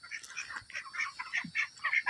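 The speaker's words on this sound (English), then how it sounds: "there's my ducks." Ducks on a backyard property quacking and chattering in a steady run of calls, moderately close and fairly quiet, with no talk over them.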